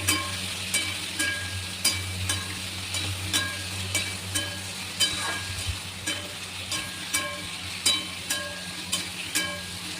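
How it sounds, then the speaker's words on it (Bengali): Potatoes frying in a pan with salt and turmeric make a steady, soft sizzle, broken by regular, evenly spaced scrapes of stirring throughout. No one speaks. "তারপরে আবার ভালো করে একটু ভেজে নেব নুন হলুদ দিয়ে।"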